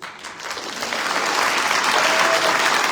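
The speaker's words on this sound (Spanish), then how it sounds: "Un aplauso para el doctor Brasil Acosta Peña" An audience at a lecture on the socioeconomic factors of insecurity breaks into applause for the speaker, the clapping swelling quickly and holding as a loud, sustained wash of many hands.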